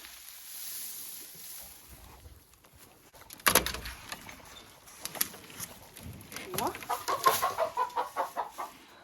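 Chicks and chickens in a greenhouse cluck and peep close by, with a sharp bang partway through and a quickening run of clucks near the end, while a person talks.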